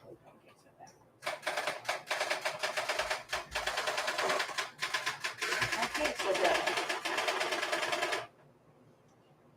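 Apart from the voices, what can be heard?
typewriter typing, holding down backspace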